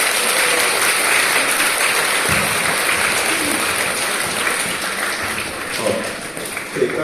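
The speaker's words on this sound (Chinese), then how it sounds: "大家用热烈的掌声感谢了周教授的精彩分享啊" Warm applause fills a hall to thank Professor Zhou after his lecture on the archaeology of Cao Cao's tomb: a steady, fairly loud wash of many hands clapping for seven seconds that dips slightly near the end.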